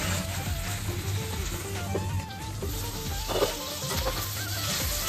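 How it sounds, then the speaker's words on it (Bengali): Bone-in chicken cooks covered over a low gas flame for palak chicken, giving a steady, soft sizzle and gentle frying crackle throughout, with faint stirring noises. "গ্যাস কমিয়ে চিকেনটা ঢাকা দিয়ে দিয়ে ভালো করে রান্না করে নেব।"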